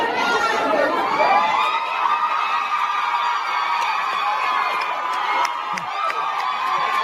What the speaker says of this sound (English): You can hear they're cheering.